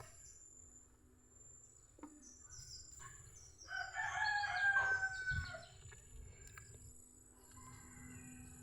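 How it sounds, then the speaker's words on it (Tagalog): A rooster crows loudly once, mid-range and fairly close, over a steady background of chirping insects and faint clucking chickens, with a soft thump near the start. "Ingay po ng mga manok."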